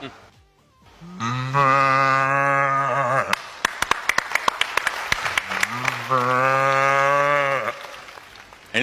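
A person imitates a native cow with two long, drawn-out moos, separated by a burst of clapping and cheering.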